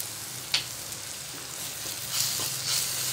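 Gram flour sautés with ginger garlic paste in a pan for paneer masala, giving a quiet, even sizzle with a few soft stirring scrapes and taps, and no voices.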